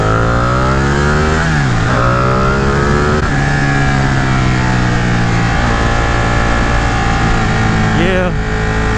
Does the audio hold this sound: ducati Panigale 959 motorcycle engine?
yes